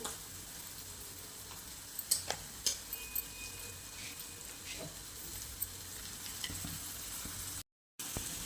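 Mashed potato filling for aloo pattice sautéed in a pan, a soft steady sizzle broken by a few sharp spoon taps and scrapes on the pan, fairly quiet and close, with no talking.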